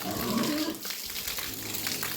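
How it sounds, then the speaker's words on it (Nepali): Hot water pours and splashes steadily while pigs are being washed in summer, a continuous gushing spray close by with no voices. "अझै तातो आइरहेको पानी"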